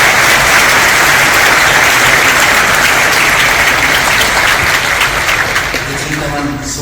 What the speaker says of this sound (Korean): 경건의 찬양 박수 다시 한번 하겠습니다.